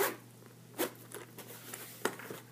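A zipper is slowly drawn open around a Beats Studio headphone carrying case with red-trimmed zipper, giving soft scratchy rasps and small clicks close up in a quiet room.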